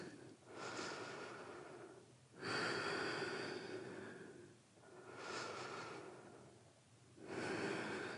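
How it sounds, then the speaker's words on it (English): Slow, steady ujjayi yoga breathing, long hissing inhales and exhales alternating in an even rhythm, close and fairly quiet, with no talking. "Steady, long ujjayi breaths."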